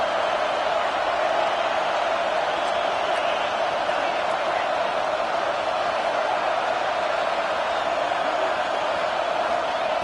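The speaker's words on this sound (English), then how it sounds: "This crowd is trying to inspire this defense to make a big red zone stop." A dense, roaring football stadium crowd cheering loudly and continuously to rally the defense for a red zone stop, a steady wall of noise with no pauses.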